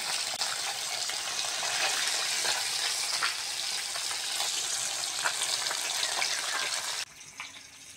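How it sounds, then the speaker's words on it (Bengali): Bata fish frying in oil in a pan, a loud steady crackling sizzle heard up close, dropping off abruptly near the end, with no talking. "বাকি মাছগুলোও ভাজা হয়ে গেছে,"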